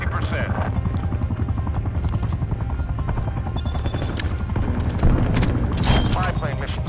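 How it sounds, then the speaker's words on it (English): An attack chopper in Call of Duty Black Ops Cold War, rotor drone churning low and steady beneath bursts of gunfire and a few booms during a team deathmatch. "An attack chopper."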